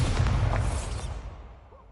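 A Bombarda blasting spell explodes in the Hogwarts Legacy video game, a loud low boom with a rumbling tail that fades away over about two seconds.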